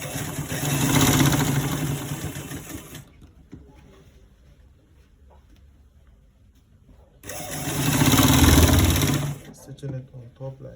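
Sewing machine stitching elastic onto the back of a waistband, two loud continuous runs of the motor's rapid whirring separated by a quieter pause with faint handling noise.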